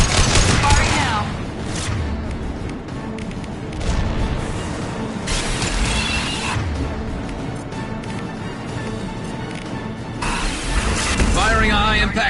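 Ship weapons firing in Mass Effect 2, a dense continuous barrage of mechanical clanking, booms and rapid bursts, with voices talking over the combat.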